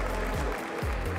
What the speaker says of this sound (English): maybe a little noise from the crowd will help wake you up